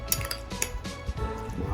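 Crab filling mixed in a bowl with a utensil, quick clinks and scraping taps against the bowl, close and fairly loud without speech.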